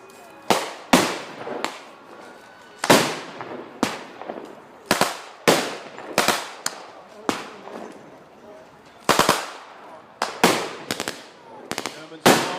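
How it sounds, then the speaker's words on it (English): Blank-firing machine gun bursts at a war reenactment battle, sharp loud cracks in irregular clusters across an open field, some doubled shots, echoing outdoors with no speech over them. "we have a surprise for the Allies, and that's a machine gun"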